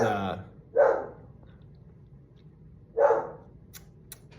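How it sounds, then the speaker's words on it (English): Two single dog barks a couple of seconds apart, moderately close, following a brief bit of speech, with faint ticking in the background. "that's my dog's barking"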